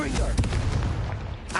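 A Confringo blasting spell going off in a Harry Potter video game, heard as a brief, close, booming burst with a rough crackling tail lasting under two seconds.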